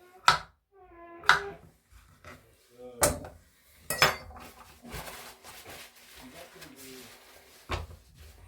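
Crisp knife strikes on a board while potatoes are cut in a home kitchen, sharp clicks and knocks spaced irregularly amid faint clinks of utensils, close and fairly quiet.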